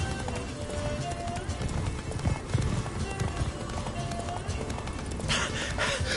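Steady hoofbeats of the horse Roach galloping in The Witcher 3, a continuous clip-clopping run mixed with game ambience and faint speech.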